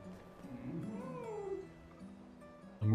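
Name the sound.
pet cat meowing near microphone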